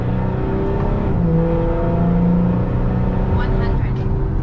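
Volkswagen Amarok V6 pickup with a Stage 2 tune pulling hard on a flat stretch, its engine note rising steadily and staying loud and close throughout as it revs toward the limiter.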